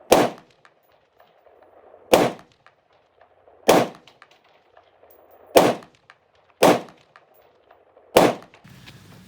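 A rifle firing 65 grain tracer rounds outdoors at night: six sharp, loud single shots spaced about one and a half seconds apart, each cracking sharply and then decaying quickly into near silence.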